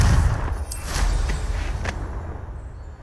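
Confringo blasting spell cast in Hogwarts Legacy, a few sharp explosive bursts in quick succession followed by a fading rumble, fairly loud and without talk.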